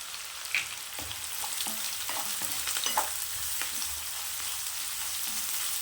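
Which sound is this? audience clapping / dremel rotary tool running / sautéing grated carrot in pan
sautéing grated carrot in pan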